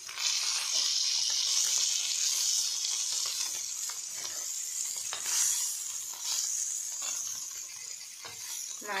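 Fish sizzling on a hot griddle (tava), a steady bright frying hiss with faint stirring clatter, continuous and fairly close, with no talking over it.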